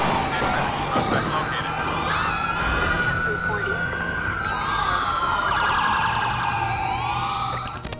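Police sirens from GTA 5 with a realism mod, wailing loudly and steadily from close behind during a chase. The pitch sweeps rise and fall, with traffic and engine noise underneath.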